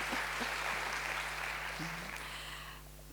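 An audience applauds at a live literary talk, a dense wash of clapping that fades slightly toward the end.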